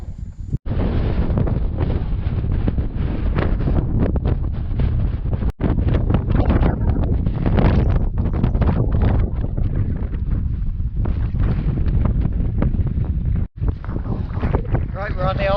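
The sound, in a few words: strong wind on moorland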